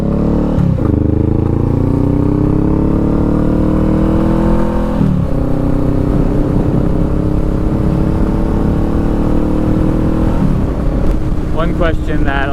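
A motorcycle is ridden on the road, its engine revving up in rising pitch sweeps and dropping at each gear change, loud and close with steady wind noise throughout.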